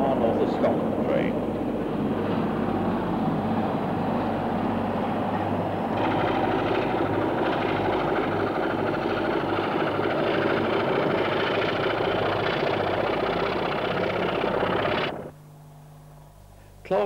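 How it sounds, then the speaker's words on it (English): Class 26 diesel locomotive working a far north of Scotland train, its engine a loud, steady rumble that holds for about fifteen seconds before cutting away abruptly to near silence. "this Class 26 is on another far north of Scotland train"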